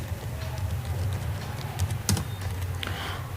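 Computer keyboard keys tapped in a steady run of soft clicks while a select query is written, close and moderately loud over a constant low hum, no speech.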